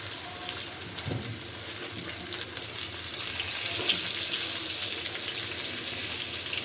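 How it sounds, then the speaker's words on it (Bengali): Eggplant slices fry in a pan over low gas heat, giving a steady, soft sizzle with faint crackles that swell slightly midway, heard close and alone without talk. "তাপও লাগে না, অল্প তাপে বেগুন ভাজা হয়ে যায়।"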